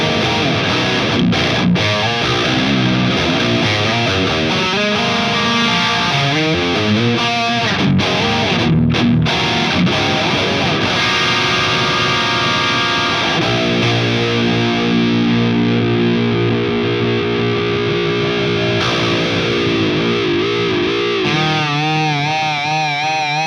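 Heavily distorted Schecter electric guitar driven by a sustainer pickup, ringing out long held notes that swell, warble and shift pitch, loud and continuous for the whole stretch with no talking.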